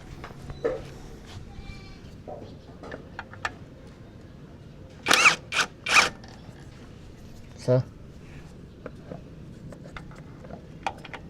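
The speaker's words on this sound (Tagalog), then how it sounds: "Tanggalin natin itong crankcase cover. 8mm socket." A ratchet fitted with an 8mm socket works bolts loose on the crankcase cover of a Yamaha XMAX scooter during CVT cleaning, giving several sharp, close bursts of rapid clicking with pauses between them.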